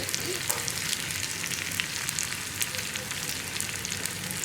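Onions fry in a pan for a long bean and lentil curry, giving a dense, steady sizzle up close, with scattered light clicks as they are stirred.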